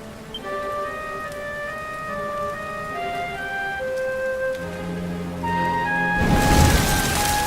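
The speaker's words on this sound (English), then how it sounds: "Looks like the rain's dying down." Steady rain falls across a Dragon Quest XI game scene, a constant soft patter under sustained musical tones, swelling into a louder, denser wash near the end.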